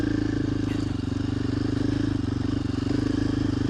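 A trail motorcycle ridden along a dirt trail, its engine putting out a steady, throbbing drone at an even pace, close to the microphone and fairly loud throughout.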